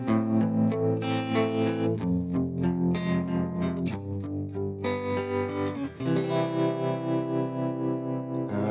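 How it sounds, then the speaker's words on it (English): An electric guitar played through a Line 6 Helix Matchless preset with tremolo, sustained chords pulsing in rapid even volume waves, driven and full, with no talking. "Snapshot 4 just has this tremolo."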